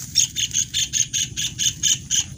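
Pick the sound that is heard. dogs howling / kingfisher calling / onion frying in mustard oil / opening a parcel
kingfisher calling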